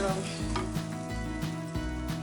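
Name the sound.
water poured into hot frying pan, sizzling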